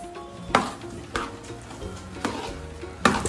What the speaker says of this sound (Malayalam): തേങ്ങ കൂടെ മിക്സ് ചെയ്യുകയാണ് അതിൻ്റെ ഉള്ളിൽ.